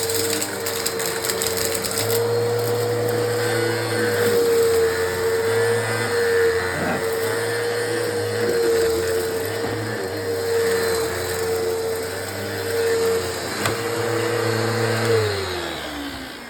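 A Eureka Uno upright vacuum cleaner (2997-BVZ) grooms carpet, its motor a loud, steady close drone with a constant hum that dips slightly near the end.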